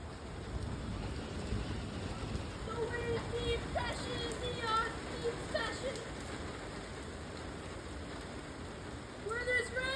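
Steady rain patters on surfaces during a supercell thunderstorm in a video game, a continuous soft hiss with faint chirping tones above it and no clear thunder.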